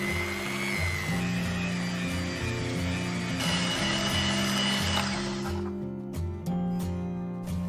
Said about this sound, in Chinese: 盆中准备100克软化好的黄油，加入25克糖粉，用打蛋器打至膨胀